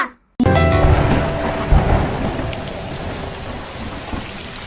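Rain and thunderstorm: after a brief quiet start, heavy rain hisses steadily over a loud rolling thunder clap that booms and slowly fades, with the downpour continuing alone.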